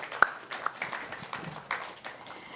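Light, sparse audience clapping for a Tiwi artist at an Indigenous songs event, a handful of separate claps spread across a quiet room.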